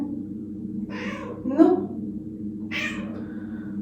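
A cat meows at a closed door, several short calls spaced through the moment, close and fairly clear, while a person speaks briefly over them.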